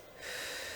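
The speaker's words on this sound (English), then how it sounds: "Inhale through the nose." A single sharp breath drawn in through the nose during a live circuit workout cool-down, rising after a short quiet start and holding steady and close until the end, with no talking.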